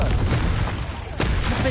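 Confringo fire-blast spell going off in the video game Hogwarts Legacy, a dense rumbling boom amid continuous loud combat noise, with a sharp burst near the end and a voice shouting over it.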